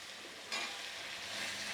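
Faint sizzle of tomato dropped into a pan of frying raw banana palya, starting abruptly about a third of the way in and holding as a soft, steady hiss with no talk.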